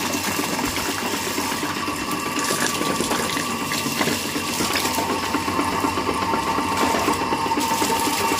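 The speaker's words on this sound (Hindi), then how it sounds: "आज तो पानी आ गया, देख रहे हो माशाल्लाह से सही पानी आ रहा है अभी तेज़।" Water gushes strongly from a household tap fed by a motor pump, a steady, loud rushing flow with a faint mechanical hum underneath, continuous throughout with no talking.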